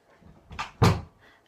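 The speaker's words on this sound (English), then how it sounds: "Josh, close my door, please." An indoor bedroom door closes with a single firm thud, preceded by a softer handle or latch sound, close by and fairly loud in a quiet room.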